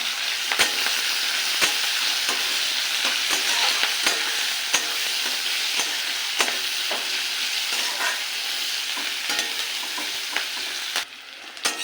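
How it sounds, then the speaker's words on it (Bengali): Chopped onion and slit green chillies fry in a pan with black cumin seeds and crushed garlic, producing a loud, steady sizzle punctuated by frequent sharp clicks of a spatula stirring. "এবার দিয়ে দেবো পেঁয়াজ কুচি আর কাঁচা লঙ্কা চেরা। ভালো করে ভেজে নেব।"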